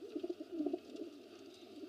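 A Mushaldom pigeon in a home pigeon loft gives low, rolling coos in quick pulsing bursts, faint and close, without any talk.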